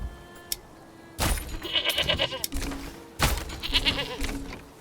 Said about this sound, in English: We got some goats right over here.